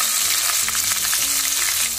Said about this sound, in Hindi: अब हम डाल देंगे इसमें हमारे प्याज। और साथ ही हम डालेंगे इसमें कड़ी पत्ते।